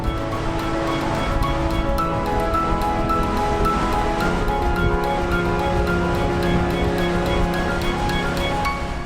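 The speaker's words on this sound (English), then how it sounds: "Those waves are so aggressive." Powerful ocean waves crashing on the Catlins coastline of New Zealand at night, a continuous loud roaring surf with no pauses, heard alone without voices.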